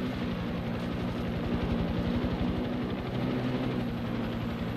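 A helicopter in Far Cry 6 gives off a continuous, loud rotor chop with an engine drone, steady and close throughout, with no talking.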